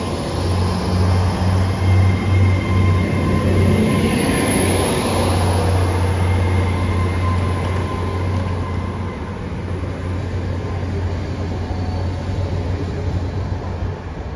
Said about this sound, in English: there goes the 1028 Great Western Railway service to London Paddington from Great Malvern